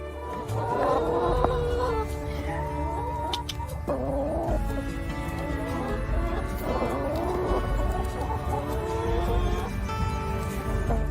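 Several chickens cluck and murmur nearby on a farm, with warbling calls rising and falling over a steady outdoor background.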